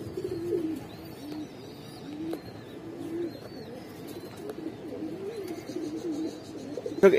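Giribaz pigeons of the Afsan bagha type coo repeatedly at close range in a loft, low throaty calls overlapping with soft rustling and a few faint higher chirps.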